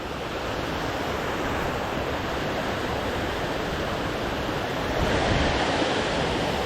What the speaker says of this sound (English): Here it is, standing at the toes of Dix Creek Falls.